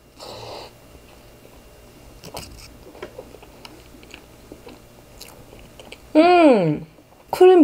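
Soft, close chewing of a low-sugar chocolate roll cake comes in quiet bursts. A person makes a brief sound of enjoyment near the end.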